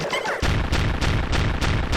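Bombs explode in a rapid, evenly spaced series during an I Wanna platformer boss fight, each loud burst landing about every third of a second over dense game sound.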